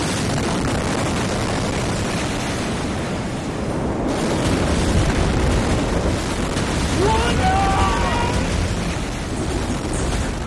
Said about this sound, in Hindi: एक भयंकर धमाका जिसने पूरे बेरूत शहर को हिला दिया।